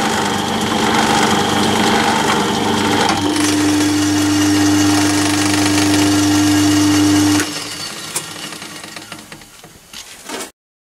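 A lathe spins a diamond lapping table for lapping carbide tools, giving a loud steady motor whine and hum that cuts out midway and winds down with scattered clicks.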